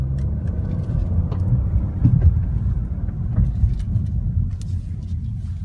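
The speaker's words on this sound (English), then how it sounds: "that's how a 1-liter EcoBoost engine sounds like from at least the inside" Low, steady engine drone heard from inside a 2016 Ford Focus SE with a 1.0-liter EcoBoost engine, a constant rumble with faint rattles and no talk.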